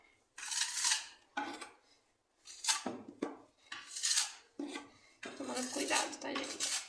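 Clean metal spatula scraping and smoothing wall filler over patched holes in a house wall, a series of close, raspy strokes in short bursts with gaps between, ending in a longer continuous scrape.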